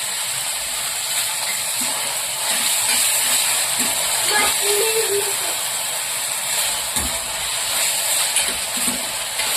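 Tomatoes sizzling in a pan over softened onions for a simple chicken pulao, a steady, fairly loud hissing fry that runs throughout, with a voice speaking over it.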